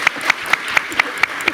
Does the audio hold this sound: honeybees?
no